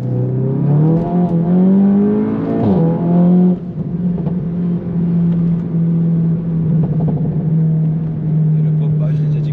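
A Seat Leon Cupra Stage 2 with 405 hp revs briefly, then settles into a loud, steady engine drone, with voices faintly present underneath.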